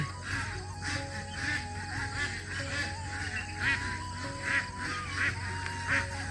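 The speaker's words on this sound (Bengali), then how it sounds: "হাঁস মুরগি সব বেরিয়ে গেছে ঘর থেকে" Ducks and chickens roam a fog-covered village at dawn, with repeated short quacking calls rising at intervals over a constant low rural background, moderately distant.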